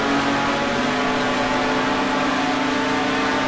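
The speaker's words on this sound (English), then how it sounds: "that Audi's got some motor down these straights" Audi GT race car in a racing game pulling hard down a straight, a loud steady high-revving engine drone that holds a constant pitch for the whole stretch, with no voices over it.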